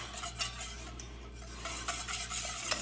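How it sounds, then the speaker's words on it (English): Xanthan gum is whisked vigorously into liquid for a keto coconut cream pie, making a fast, continuous scraping swish of a whisk against a bowl, close and unbroken, with no voices. "So just a little over the top, and whisk vigorously to get it incorporated"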